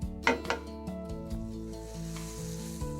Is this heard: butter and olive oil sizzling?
yes